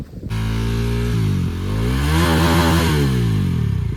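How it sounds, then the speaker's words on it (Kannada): A Dominar motorcycle engine revs hard while riding off-road on a hill, loud and close, the pitch swooping up and down in repeated throttle blips after a sharp start. "ಜಾಸ್ತಿ ರೇವ್ ಮಾಡ್ಬಿಡಿ, ಇಂಜಿನ್ ಹೀಟ್ ಆಗುತ್ತೆ,"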